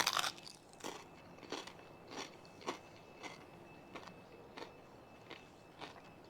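Crispy pork belly skin crunches under repeated bites, a steady run of about nine sharp, brittle crackles spaced roughly half a second apart, close but fairly quiet, with no talking.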